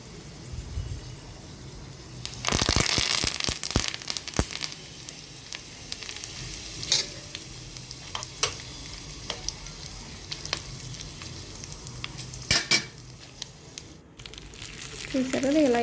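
Curry leaves dropped into hot oil for sambar rice burst into a loud crackling sizzle, followed by ongoing frying with scattered pops and stirring clatters close by.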